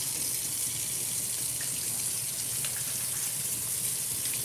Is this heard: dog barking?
no